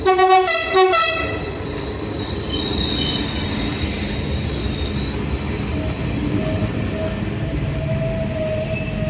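A loud TCDD freight train horn (MT 15406) blasts briefly at the start at Selçuk, Turkey, then a long rumble of rail cars rolling past with high metallic wheel squeals drawn out over the noise.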